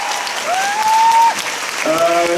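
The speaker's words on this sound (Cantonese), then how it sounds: "希望你哋再俾一次掌聲" Steady crowd applause fills a school hall at the end of a student show, loud and continuous, with a couple of drawn-out vocal calls riding above it.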